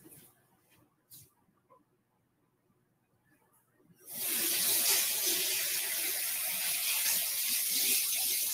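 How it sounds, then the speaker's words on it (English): A spoon is rinsed under a running kitchen tap. After a few quiet seconds with faint clinks, a loud, steady rush of water starts abruptly and keeps flowing close by. "let me rinse my spoon off."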